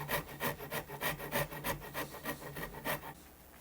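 Rasping and carving strokes on a rosewood guitar neck for a Telecaster-style build, shaping a flat: steady rhythmic back-and-forth wood scraping, about a dozen close, even passes.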